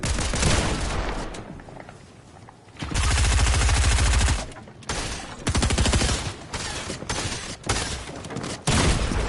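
Rapid automatic gunfire from players spraying in a Star Wars shooter, dense bursts of shots, loud and close, coming in several long stretches with short gaps.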